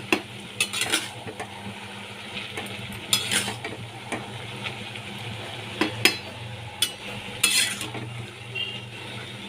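Cumin powder stirred into a frying pan of hilsa fish head and ash gourd, a soft sizzle under scraping spoon strokes and occasional clinks against the pan, close and moderately quiet, without talk.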